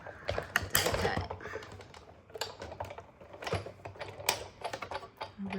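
A die cutting machine runs a Christmas tree die through with a clattering, ratcheting series of mechanical clicks and knocks, uneven in rhythm and close up.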